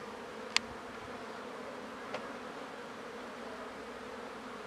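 Honeybees at a hive warmed by a spot of sunshine, a steady soft buzz continuing throughout with two brief sharper ticks, no voices.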